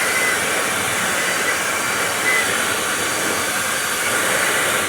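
An air blower dries a freshly washed 2013 Le Mans Blue E92 BMW M3, giving a loud, steady, unbroken rushing whoosh held close and constant throughout.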